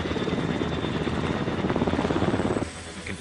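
Helicopter turbine engines and rotor blades during a landing approach, a loud, steady whine with a rhythmic rotor chop throughout that drops slightly near the end.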